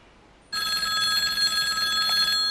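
A telephone rings with a continuous electronic trill that starts abruptly after a brief quiet moment and keeps going, close and clear.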